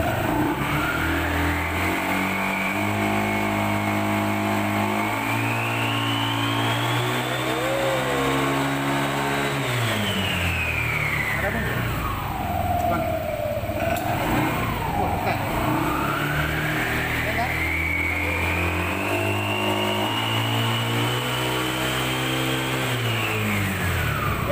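Yamaha NMAX Turbo scooter engine revving hard and accelerating, pitch climbing, dipping as it shifts down, then climbing again, loud and close throughout, with a voice briefly speaking over it.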